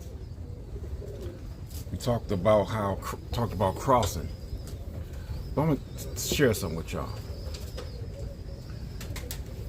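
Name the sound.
Birmingham roller pigeons cooing and flapping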